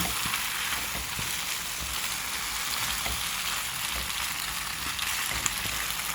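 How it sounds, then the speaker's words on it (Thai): Two eggs stir-fried in a hot pan give a steady, loud, close sizzle that runs unbroken throughout, with faint scrapes of stirring underneath and no voices. "พอใส่ไข่ลงไปสองฟอง ก็ผัดคลุกเคล้าให้เข้ากันทุกคน"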